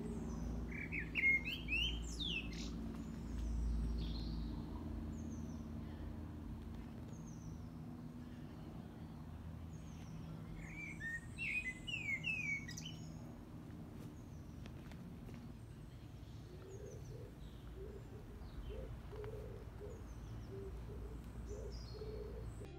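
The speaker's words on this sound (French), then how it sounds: "Et il y avait un merle noir qui chantait." A common blackbird sings in a college garden, fluting and warbling phrases in scattered bursts against a low, steady outdoor hum, fairly faint and some distance off.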